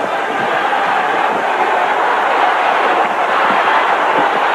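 A huge crowd in 1978 roars and cheers for the newly elected Pope John Paul II, a loud, continuous wash of massed voices with no individual words standing out.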